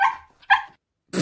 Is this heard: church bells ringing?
no